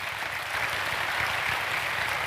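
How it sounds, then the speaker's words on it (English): At a live youth festival, a crowd gives a steady round of applause that carries through the whole short stretch. The clapping blends into a continuous, fairly loud wash. "So can we have another round of applause, please?"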